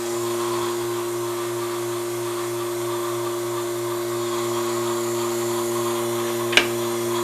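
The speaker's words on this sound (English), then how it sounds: "Turn on your vacuum." A shop vacuum hums loud and steady beside a wood lathe while ornaments are hollowed with Laurent Niclot mini hollowers, with one sharp tick near the end.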